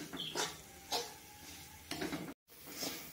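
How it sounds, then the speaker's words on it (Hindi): Peanuts dry-roasting in a pan are stirred in repeated scraping strokes about once a second, with a soft sizzle between them and a brief silent gap near the end. "तो मैं मूंगफली को भी भून लूँगी अच्छे से।"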